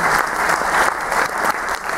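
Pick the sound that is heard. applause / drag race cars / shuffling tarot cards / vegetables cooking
applause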